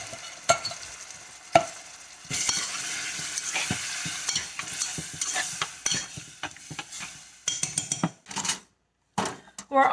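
Softened carrots, onions and garlic sizzle in a pan while a utensil stirs and scrapes, giving irregular metallic clinks and knocks over a steady frying hiss, close and fairly loud, ending with a few separate clatters.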